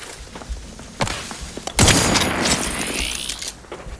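Gunfire in The Outer Worlds 2: a few sharp shots, then a loud booming blast that rolls into a sustained rumble and mechanical whine before fading, with no talking.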